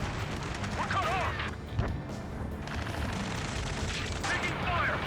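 Gunfire in the video game Ace Combat 7: Skies Unknown, a dense ongoing rattle of shots and booms under game music, with radio voices talking over it.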